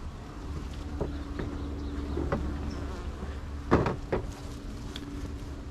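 Honeybees drone steadily through an open hive during a spring inspection, a continuous close buzz with a few brief knocks and clicks of frames and hive parts partway through.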